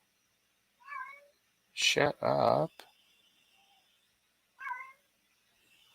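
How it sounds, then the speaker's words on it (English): A house cat meows in two short, separate calls, close and clear, with a loud burst of a person talking between them and faint room quiet around. "My cat is meowing."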